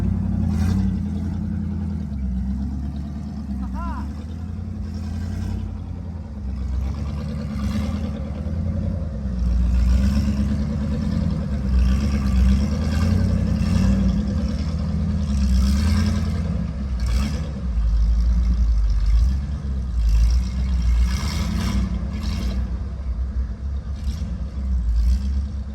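Jeep WJ engine revving hard while stuck in snow, a steady loud low rumble with surging throttle that rises and falls continuously under faint outdoor noise, no talk.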